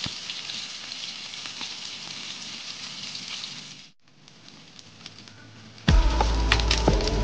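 Pieces of fish sizzle steadily in hot oil in a home kitchen, a dense crackling hiss that drops briefly, then swells louder and fuller as more fish hits the pan.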